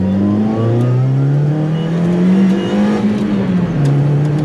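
A Japanese 650cc supercharged kei car drives around town, its engine droning loudly and steadily close up, pitch rising and falling gently as the throttle changes, with no voices.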